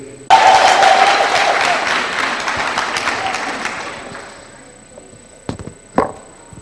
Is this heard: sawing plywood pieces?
no